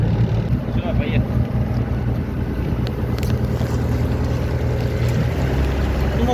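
Warmed-up outboard engine of a Yamaha FR-27DX motorboat runs with a loud, constant low drone on the water, mixed with heavy wind buffeting the microphone.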